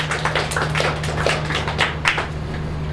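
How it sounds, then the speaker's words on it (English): Scattered clapping from a small group in a room, a few seconds of uneven hand claps over a steady low hum, no voices. "Let's give ourselves a round of applause."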